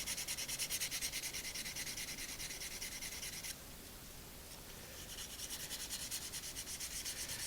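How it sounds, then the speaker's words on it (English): Sandpaper scrubbing over the surface of a natural whetstone: a steady, close, continuous rhythmic rasp of back-and-forth strokes, briefly duller midway, with no voices. "Where's my sandpaper? I'm going to go scratch over that surface again."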